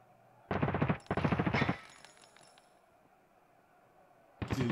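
Automatic gunfire in the video game Arena rattles out in two rapid, loud bursts close together, followed by a quiet lull and then another burst starting at the very end.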